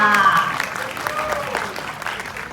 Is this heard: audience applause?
yes